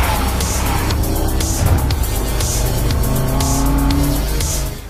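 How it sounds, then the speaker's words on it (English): A car peels away hard, a sustained loud engine roar with tire squeal running steadily throughout, close and without talk. "You smash the car into drive and start to dart out of there."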